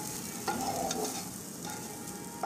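Carrots and other vegetables stirred in a frying pan, a steady soft sizzle with scraping spatula strokes near the start and middle, quiet and close with no talking.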